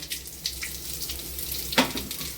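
Cumin seeds splutter in hot oil while tempering, scattered crackles and pops, with one sharp burst near the end over a low steady sizzle.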